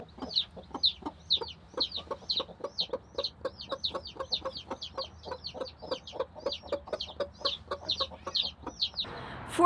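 A hen with chicks gives a steady run of close clucks and sharp chick peeps repeating in quick rhythm throughout, with no talk.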